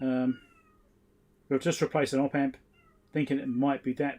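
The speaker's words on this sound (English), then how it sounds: "I wish my cat would shut up." A pet cat meows loudly in a short burst at the start, then a person talks over a workbench's background hum.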